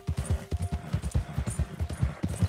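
Rhythmic clip-clop of horse hooves in Red Dead Redemption 2, a steady close trot of evenly spaced hoofbeats with a faint steady tone in the background.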